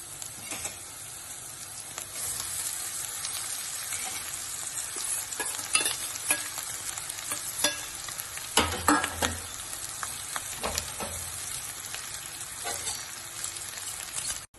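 Boiled, mashed potatoes are stirred into a hot pan for capsicum potato palya. A steady close sizzle runs under repeated scraping and stirring strokes, with a few louder clatters in the middle.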